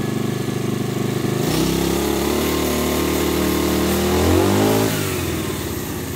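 Robin 427 four-stroke grass trimmer engine revving up from idle to a loud high whine, holding, then dropping back down, close and alone without voices.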